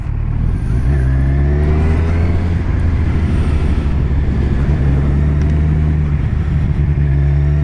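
A 2017 Kawasaki Z1000 motorcycle engine under riding load, a loud, close, steady roar with shifting harmonic tones as revs rise and fall, accompanied by wind rush.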